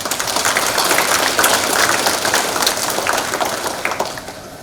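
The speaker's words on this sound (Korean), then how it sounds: "우리 감사의 박수 부탁드립니다." An audience at a ceremony in Yeosu marking the 72nd anniversary of Korean War student soldiers going to war applauds. The dense, even clapping is heard alone and fades toward the end.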